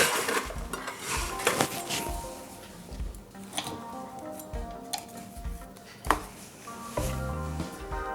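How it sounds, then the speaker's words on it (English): A knife works a salt crust on poultry with scattered clinks, taps and scrapes against the crust and a dish, close by and fairly faint, irregular throughout. "So now I will use my knife"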